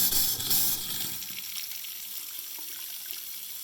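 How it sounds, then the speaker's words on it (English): Water runs from a tap just after a leaking stop valve has been replaced with a SharkBite push-fit valve, a close, loud rushing hiss that settles into a steadier flow. "Gonna turn on the water now and see if that works."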